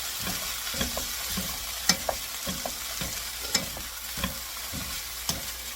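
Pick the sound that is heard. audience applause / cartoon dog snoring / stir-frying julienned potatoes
stir-frying julienned potatoes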